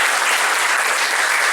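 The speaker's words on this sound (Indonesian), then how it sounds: "Tepuk tangan buat teman-teman." A crowd at a Prudential team motivational event claps loudly, a dense, even roar of applause sustained without a break or a voice.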